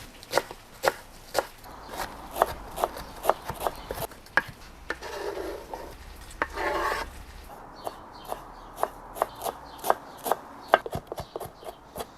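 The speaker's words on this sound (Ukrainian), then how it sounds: "Нарізаємо зелень." A knife chops fresh dill on a cutting board in a steady series of sharp, close taps, pausing briefly midway for a softer rubbing sound before the even chopping resumes.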